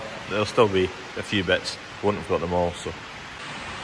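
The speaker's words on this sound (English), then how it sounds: "for a wee bit while this rain is pouring." Heavy rain pouring on a farm shed, making a steady broadband hiss that runs beneath someone talking close by.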